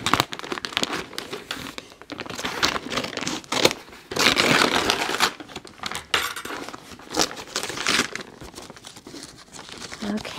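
Wrapping on a mail package crinkles and crumples in irregular bursts as it is torn open, loud and close, with a little talk mixed in.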